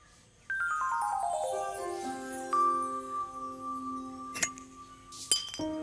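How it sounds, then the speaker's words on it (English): Glass shards from a smashed light bulb in an old slide projector clink and tinkle in the Assemble with Care puzzle game, a ringing cascade of bright tones followed by a few sharper clinks. "Light bulb is completely smashed."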